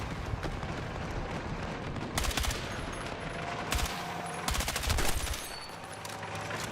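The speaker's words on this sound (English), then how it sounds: "he's got An unsilenced gun" An unsilenced gun in Battlefield 6 fires in several loud, rattling automatic bursts, clustered around the middle of the span, over continuous battlefield ambience.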